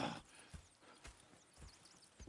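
Horses in the video game Red Dead Redemption 2 clop along at a steady walking pace, soft, evenly spaced hoof thuds repeating quietly at low level.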